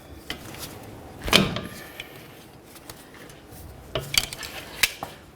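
A wrench works loose a seized jam nut between the inner and outer tie rod ends on a 2006-12 Ford Fusion, giving one sharp metallic clank followed a few seconds later by several lighter clinks.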